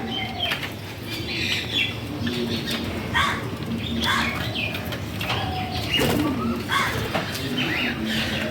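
Several birds coo softly while wings flap in short bursts, close by, with occasional chirps.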